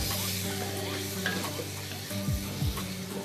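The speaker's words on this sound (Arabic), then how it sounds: "والحين بضيفه على البصل مع الثوم والزنجبيل وخليهم يتشوحون مع بعض" Meat sautéing with onion, garlic and ginger in a pot during Ramadan home cooking, a steady close sizzle and frying hiss with a few scraping stirs of a spoon against the pot.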